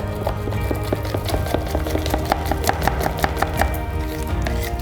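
Sourdough starter being mixed by hand in a container, a rhythmic series of close, wet knocking and scraping strokes repeating steadily.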